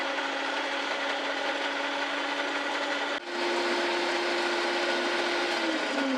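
An electric mixer beats egg whites for meringue, a steady close whine with a constant pitch that dips briefly midway, then carries on at a slightly higher speed and drifts upward near the end.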